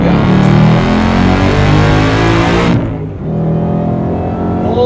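A supercharged Ford Mustang GT with a Hennessey HPE800 upgrade accelerates hard, its loud engine roaring up through the revs from inside the car, then a quick shift drops the pitch before it climbs again.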